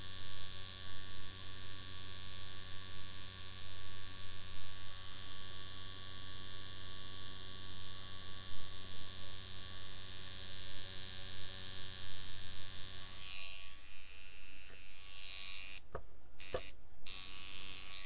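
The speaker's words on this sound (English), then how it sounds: "a lot of people get after me because I leave my tattoo machine running a lot" An electric tattoo machine runs during hand tattoo line work, giving a steady, loud electric buzz for about thirteen seconds before it cuts out and sputters in a few short bursts.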